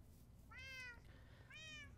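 Two distinct cat meows in a Minecraft game, each a short rising-then-falling tone about a second apart, fairly clear over a low background hum with no talking.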